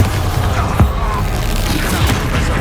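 Spell explosions in Hogwarts Legacy during a troll fight: a few deep booms and blasts land in quick succession under a rumbling game soundtrack, with voices shouting over the action.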